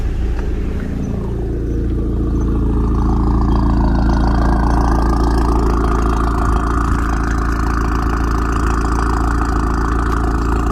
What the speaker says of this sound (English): There's the car idling.